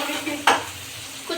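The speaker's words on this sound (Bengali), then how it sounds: "এখানে ভাজছি সাথে একটা টমেটো দিছি টমেটো ভাজছি" Eggplant and tomato frying in a pan, a soft continuous sizzle with a sharp stirring scrape near the start and a lighter one at the end.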